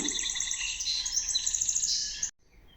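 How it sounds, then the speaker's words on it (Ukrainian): Dense, high-pitched bird chirping and twittering, steady and fairly loud, cutting off abruptly near the end. "Чуєте? свірінчать пташки."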